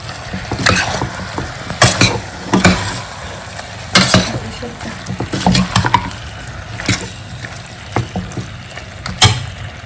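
A spoon stirs spices into chicken in a pot, with repeated scraping and clanking strokes in an irregular rhythm and a faint sizzle underneath, close and fairly loud.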